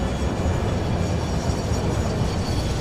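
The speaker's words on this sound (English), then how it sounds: "I've never seen 2 trains approach an intersection at the same time like this before." Two video game trains rumble and rattle toward a crossing at the same moment, a steady, continuous rolling drone of rail wheels and wagons that holds at an even loudness throughout, with no talk over it.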